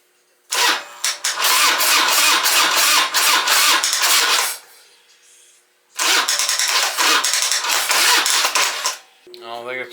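A Harley-Davidson Dyna motorcycle engine turning over on its starter without firing, fitted with a newly installed carburetor and a brand-new battery, heard as two loud close cranking bursts of about four and three seconds separated by a short pause.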